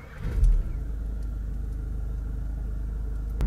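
Interior of a Skoda Karoq 2.0 TDI automatic being driven on a cold engine, a steady low engine rumble with a brief louder swell near the start and a faint click at the end.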